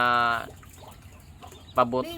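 A laying hen gives short clucking calls close by, one burst at the start and another near the end, with quieter scuffling between.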